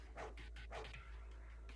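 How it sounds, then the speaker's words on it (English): Guard dogs in a video game give two loud, close barking bursts followed by a fainter growling yelp, with a steady low hum running underneath. "The guard dogs bared their fangs and howled, preparing to leap at the girl at any moment."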